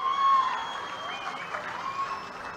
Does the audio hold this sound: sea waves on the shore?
no